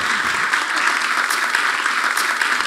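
Loud, sustained applause from an audience for Olympic gold medallist Rosa Mota at a ceremony unveiling a commemorative coin, thick continuous clapping close up with no voices.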